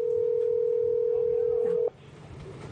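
A telephone dials out to a call-in radio show guest: a long steady tone holds for nearly two seconds, then cuts off abruptly, leaving faint background hiss and murmur.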